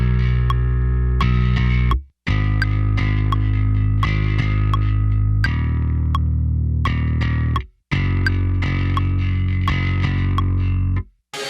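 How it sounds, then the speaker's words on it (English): Distorted bass guitar doubling a rhythm electric guitar in a heavy shoegaze riff, thick sustained chords with brief stops, loud and effects-laden throughout, no voices. "And bass is just simply following that rhythm electric guitar."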